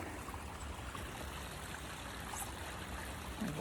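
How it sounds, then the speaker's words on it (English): A waterfall at a theme park pavilion makes a steady, moderately loud rushing wash of falling water, continuous and even throughout with no voices. "There's a waterfall."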